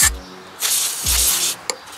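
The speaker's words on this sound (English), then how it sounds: "Just go ahead and spray up in there." Several short hissing sprays of a cleaner bottle on the underside of a Kawasaki Mule utility vehicle, close by, with low thumps between bursts and no talking.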